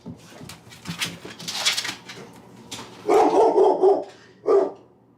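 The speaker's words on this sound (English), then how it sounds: "since my dog is barking at this moment" Household dogs bark at a UPS delivery driver arriving at the door, giving intermittent indoor barks and whimpers with loud bursts near the end, and no speech.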